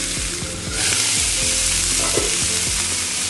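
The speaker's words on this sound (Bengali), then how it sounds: "পিঠাশের চুলায় আমি একটা বেগুন পোড়াতে দিয়েছি টমেটোতে আর কয়েকটা রসুন দিব আমি" Eggplant roasts on a stovetop flame beside tomatoes and garlic, giving a steady close sizzle and crackle with a dense hiss throughout and a few soft knocks.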